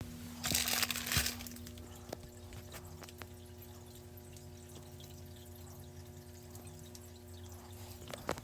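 Water from a large bag of goldfish splashes into a tank in a short loud pour near the start, then settles into quiet trickles and faint drips over a steady low aquarium hum.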